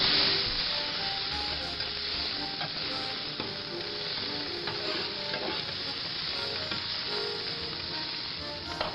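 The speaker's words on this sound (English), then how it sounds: "Saute our onion and garlic together." Onion and garlic sautéing in olive oil over medium-high heat, giving a steady, close sizzle and crackle with occasional stirring scrapes throughout, with no voices.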